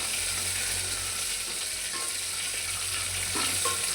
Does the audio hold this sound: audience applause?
no